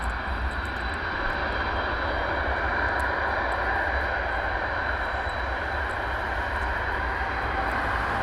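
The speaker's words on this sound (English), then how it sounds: "listen to the roar of the engines of the AN 124" An Antonov An-124 cargo aircraft taxiing at RAF Brize Norton, its engines roaring in a loud, steady drone with a high whine on top and no pauses.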